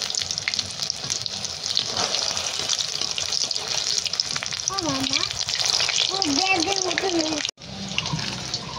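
Eggplant beguni fritters frying in hot oil, a steady loud crackling sizzle that runs throughout, with a voice speaking briefly over it before a short cut.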